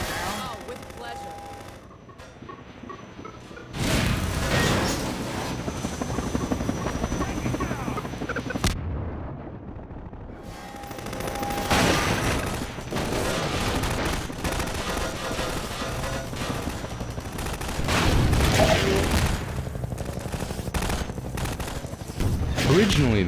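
Helicopter battle from the Half-Life 2 Episode 2 chopper fight, with loud rapid gunfire bursts and explosions over a sustained rotor roar, under game dialogue and voices.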